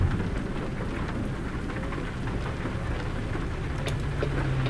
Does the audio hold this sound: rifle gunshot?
no